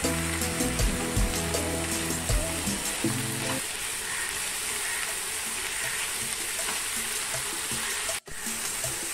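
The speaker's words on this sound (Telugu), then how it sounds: "కలర్ మారే వరకు వేయించుకోవాలా?" Onions for a Telugu prawn curry fry in a pan, a steady close sizzle running through the whole stretch, with low clatters of stirring early on and one brief dropout near the end.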